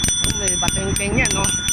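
A Chinese share bike's bell rings in a few quick, bright dings, repeated at a steady pace over ongoing talk nearby.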